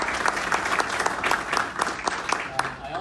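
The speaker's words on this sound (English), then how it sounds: "So give a big round of applause for our council." Audience applause rings out at a community update meeting for local council members, a brisk, continuous patter of many hands at moderate distance over about three seconds, with a faint voice underneath.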